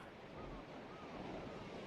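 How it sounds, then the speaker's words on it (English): Ocean waves splash and wash steadily against a boat at sea in an animated scene, a continuous soft rushing surf with some wind noise and no speech. "The splashing of the waves."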